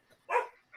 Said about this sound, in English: My dog's even cheering for you, Woods.